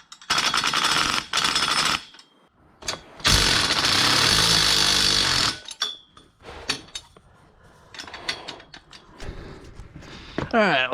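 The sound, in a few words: welding steering rack mounts on a project car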